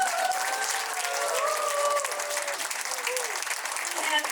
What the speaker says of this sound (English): A big round of applause to our dear learners.